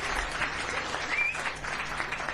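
An audience claps steadily in a dense, sustained patter of applause heard at moderate distance.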